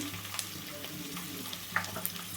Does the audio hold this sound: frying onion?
yes